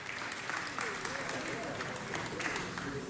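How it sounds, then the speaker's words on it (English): An audience at a Los Angeles city council meeting claps in sustained applause, a dense, steady wash of many hands filling the room at even loudness from start to finish. "Let's give them a round of applause and welcome them to the City of Los Angeles"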